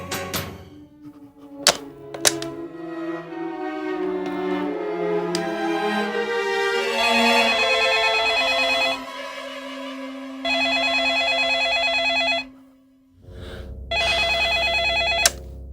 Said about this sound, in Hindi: गुप्ता जी, कमीने, तेरी हिम्मत कैसे हुई आधी रात को दारू के नशे में मुझे फोन करने की?